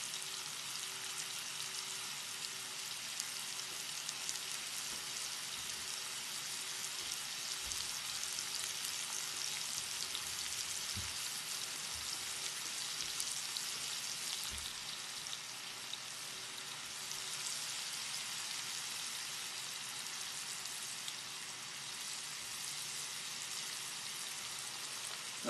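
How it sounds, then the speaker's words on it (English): Spicy shrimp sizzle steadily in a hot pan, a continuous close crackling hiss with faint pops and occasional low knocks, no talk. "Again, we're just going to do this for a couple moments and I'll let the shrimp cook"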